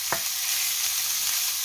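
Chicken pieces added to sautéed onion in a hot pan, a soft clatter at the start and then a steady, close hiss of frying that carries on throughout.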